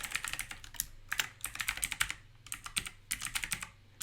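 Quick, fairly quiet keystrokes in uneven bursts as someone types a first name on a computer keyboard, close and alone with no talking.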